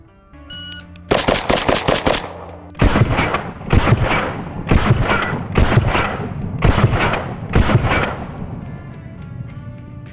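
A handgun fires six shots in three controlled pairs during a multiple-target shooting drill. The two shots in each pair fall close together with short breaks between pairs, loud and sharp with ringing echo, and no talking.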